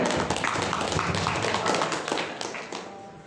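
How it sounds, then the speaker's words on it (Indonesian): An audience at a village talk show in Batang, Indonesia claps for a field supervisor: dense, even patter of many hands throughout, fairly loud and close, tapering slightly toward the end. "Mari kita juga beri tepuk tangan yang meriah kepada beliau"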